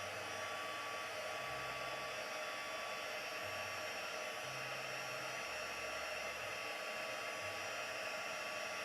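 Heat embossing tool melting gold embossing powder on a greeting card, a steady close blowing whir of fan and hot air, constant and unbroken with no talking.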